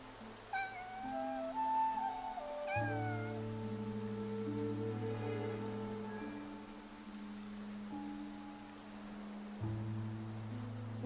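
In the video game Infinity Nikki, a cat meows a few times in quick short calls over falling rain, with a steady, calm tonal music bed continuing throughout.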